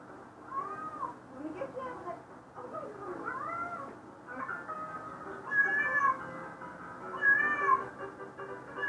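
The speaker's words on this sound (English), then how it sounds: "Water and cats don't mix, the cat is saying." A cat being washed with water gives repeated drawn-out meows and yowling caterwauls, close and loud, rising in bursts toward the end, with people talking over it at times.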